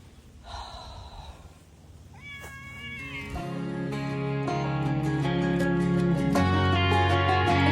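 A cat meowing near an old house, a couple of short close meows and a breathy sound early on, then masked by swelling music that takes over the rest.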